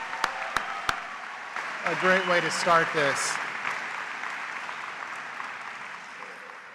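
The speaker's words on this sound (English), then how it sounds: "Let's give the pipes and drums, the OSU pipes and drums, another round of applause" Audience applause at an OSU-Tulsa spring commencement ceremony, honoring the university's pipes and drums band: a steady wash of clapping from a large crowd running throughout, with someone speaking over it in the middle.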